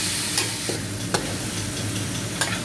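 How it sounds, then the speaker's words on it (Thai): Pork with white jelly ear and oyster mushrooms stir-fried in a hot pan, a steady loud sizzle with a few sharp scrapes of the utensil against the pan, no talking. "ใส่หมูลงไปผัดเลยค่ะ"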